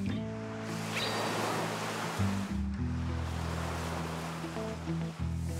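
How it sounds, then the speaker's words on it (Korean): Ocean waves break and wash onto a beach shore in a steady, loud roar of surf that swells and recedes, heard up close with no talking. "파도가 좀 있다"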